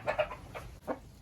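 A hen gives a few soft, close clucks in quick succession, short throaty bursts over a low background hum with no talking.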